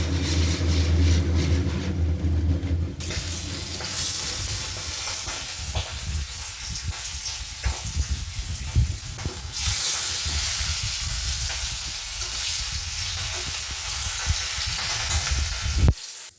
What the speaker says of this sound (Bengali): এখন আমি ইলিশ মাছটা ভেজে নেব। আমি কড়াইতে মাস্টার্ড অয়েল দিয়ে দিয়েছি।